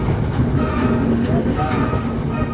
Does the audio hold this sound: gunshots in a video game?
no